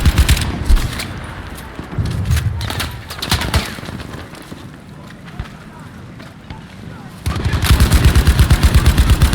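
Battlefield V gunfire cracks out in scattered shots and rapid automatic bursts, ending in a steady machine-gun stream, while players talk over the shooting.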